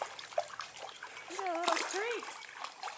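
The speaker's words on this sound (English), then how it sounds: "Why are you all wet, Annubis?" A dog splashes through a shallow creek while walking, with scattered watery splatters and trickling, and people's voices and a high whine-like call over the top.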